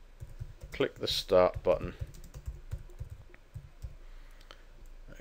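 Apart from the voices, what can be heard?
computer keyboard typing text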